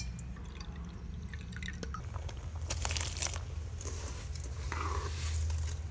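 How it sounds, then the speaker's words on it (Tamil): Water is drained off washed kodo millet, with dripping, a grainy crunch and crinkle of the grain shifting, and a brief louder splash midway, with no talking. "இப்போ இந்த தண்ணியை வந்து வடிச்சு"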